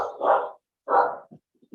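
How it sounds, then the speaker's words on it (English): Dogs barking in the background: two loud bursts of barking separated by a short pause, followed by a few softer, brief yips at the end, with no one talking. "sorry about the dogs barking in the background"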